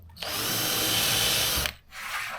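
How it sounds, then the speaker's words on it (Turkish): A power drill bores into 18 mm particleboard during cabinet assembly: a loud, close, sustained whine for about a second and a half, then a brief pause and a shorter second burst. "Deleceğim yer bu olduğu için 18 milimde sunta onu hesaplayarak şöyle deliyorum."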